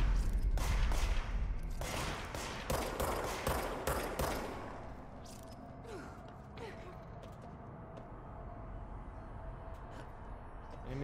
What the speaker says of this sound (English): Now they're shooting back.